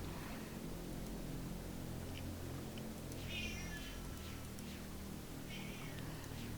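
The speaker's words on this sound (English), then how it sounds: "if you hear a cat mewling, that's mine, and I'm ignoring her, which makes her angry and makes her scream louder" A pet cat mewls faintly in the background, a couple of brief, thin cries rising over a steady, noisy hum.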